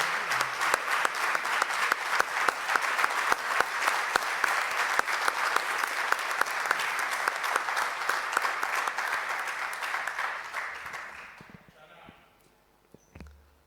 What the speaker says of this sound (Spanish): creo que merece un aplauso de todos